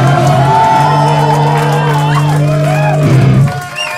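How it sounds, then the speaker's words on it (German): A concert crowd at a club farewell show cheers and whoops steadily throughout, a dense wall of shouting and applause that drops away near the end. "Ein spezieller Applaus möchte ich gerne schnell für den Herr hier hinten dran."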